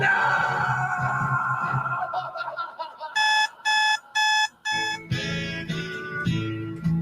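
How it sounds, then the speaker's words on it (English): An alarm clock rings in a Monday-morning wake-up scene: several loud, evenly spaced electronic beeping bursts cut in after a stretch of softer background sound, then fade into mixed noise. "That alarm clock was perfect, too."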